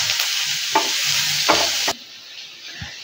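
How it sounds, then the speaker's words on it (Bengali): Onion frying in a pan as part of a ridge gourd dish, with a continuous close hiss of sizzling oil and a few scraping stirs, the sizzle dropping to a quieter simmer partway through. "পেঁয়াজটা একটু ভাজা ভাজা হোক"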